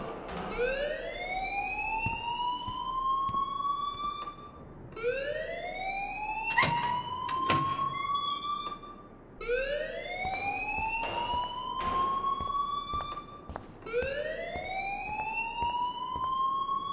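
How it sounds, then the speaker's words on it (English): A school fire alarm sounds in the video game Life Is Strange, a loud wailing siren that sweeps upward in repeated rising cycles roughly every four seconds, continuous and close with no speech over it. "please turn off that alarm since that's your job."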